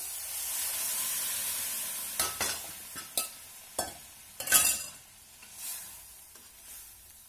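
Boiled chana dal tipped into a pan of hot desi ghee with bottle gourd, giving a steady sizzle under a run of close clattering stirs and scrapes that die down toward the end.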